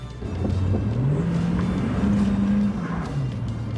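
A flood-damaged car's engine runs and revs up as it drives, its hum rising in pitch, then easing back down, loud and close.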